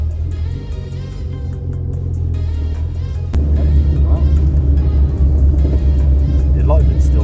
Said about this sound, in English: Might have to take it for a quick test drive.